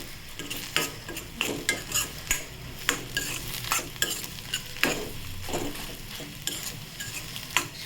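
Egg bhurji is stirred in a frying pan under a steady sizzle, with a spatula scraping and tapping against the pan in a rapid, irregular rhythm close up.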